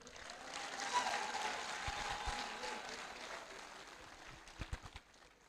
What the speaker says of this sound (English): Let me see the applause for Mr. Project.